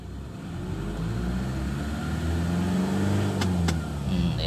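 A car engine running at steady normal idle RPM, a smooth, continuous low hum heard up close, with a couple of brief clicks near the end.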